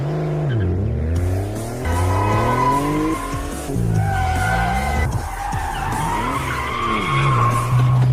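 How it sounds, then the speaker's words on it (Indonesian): Cars in a road chase from a film, with repeated loud tire squeals and skids rising and falling over revving engines, close and intense throughout. "Untuk selanjutnya, terjadilah kejar-kejaran di jalan raya."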